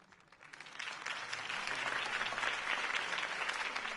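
Crowd applause in a video game scene following Harvey Dent's campaign speech, rising from quiet to a steady, full clapping swell that holds to the end.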